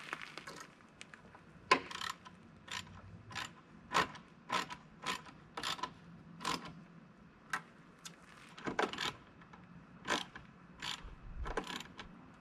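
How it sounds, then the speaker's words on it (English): A screwdriver driving screws to fasten a large Peterbilt truck emblem, a run of quick ratcheting clicks at a steady pace, close but fairly quiet with no talking. "now let's screw these on"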